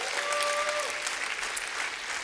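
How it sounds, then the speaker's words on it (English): Applause from a conference audience, a dense wash of clapping that fills the short stretch and stays fairly faint and even, with a brief tone at the start. "Can we give them a round of applause?"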